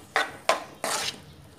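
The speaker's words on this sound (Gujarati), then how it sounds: "આપણે જે કાંદા કાપીને રાખેલા છે તે બધા હવે આપણે આની અંદર નાખી દઈશું અને એને ધીમા તાપે હલાવતા રહીશું" Three distinct clattering scrapes of a spoon against a pan, evenly spaced, close and fairly quiet, as chopped onions are stirred in ghee over low heat for a veg biryani, with no talking.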